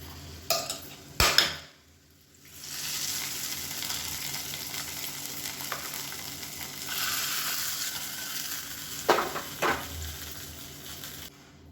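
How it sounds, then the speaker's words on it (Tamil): Hot tempering for varagu (kodo millet) pongal sizzles loudly as it is poured in, with short bursts of crackling and spoon clinks near the start and end and a steady frying hiss between. "இதை எடுத்து நம்ம பொங்கலில் கொட்டிடலாம்"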